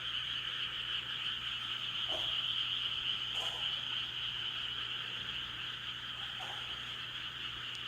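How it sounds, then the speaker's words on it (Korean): A dense chorus of frogs croaks continuously in the distance, a steady high trilling wall of sound with no voices. "개구리들의 합창 소리를 들으며 첫낮밤을 지내려 봅니다."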